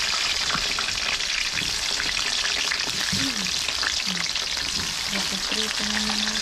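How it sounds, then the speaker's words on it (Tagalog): Steady, loud sizzling of banana slices frying in hot oil, with faint bits of tonal sound beneath the crackle. "Prito muna natin yung saging."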